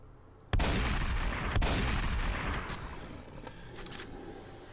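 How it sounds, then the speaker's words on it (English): Gunfire in the video game The Slaughtering Grounds: a sudden loud burst of shots opens, then a second crack follows. Bullets strike an invisible wall, and the rattle continues and slowly fades under faint background sound. "it's hitting the invisible wall, the bullets"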